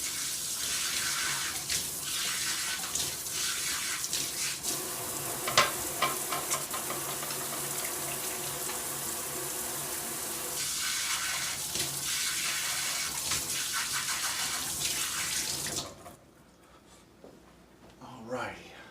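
Water runs from a kitchen tap while hands are rinsed off after shaping onion bombs, a dense continuous splashing rush that stops abruptly near the end, leaving quiet room sound and a small clatter.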